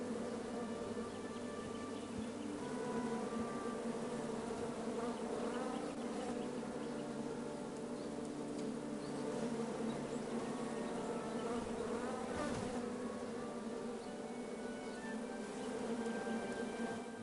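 In King's Quest, a swarm of bees drones steadily and continuously, with a wavering buzz that swells and dips without pause over a low ambient bed.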